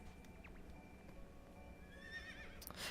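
Horse in the video game Fantasy Life neighing, a faint drawn-out whinny rising near the end over soft game ambience and hoof clip-clop.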